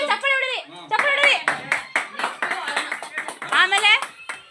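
A small group of friends on a hill-country trip clapping in bursts, sharp close claps sounding between and beneath lively talking voices that dominate most of the moment.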